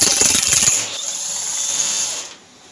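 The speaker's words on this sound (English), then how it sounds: "I take the rotor nut off using the zapper" A pneumatic impact wrench hammers the rotor nut off a Norton Commando engine in a rapid, loud rattling burst lasting under a second, then an air hiss and whine carry on before cutting off.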